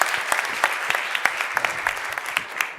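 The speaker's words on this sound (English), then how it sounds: "a big round of applause for our sponsors" A conference crowd at a keynote plenary applauds the sponsors with a lively burst of clapping, many hands close together in a continuous, fairly loud patter with sharper accents scattered throughout.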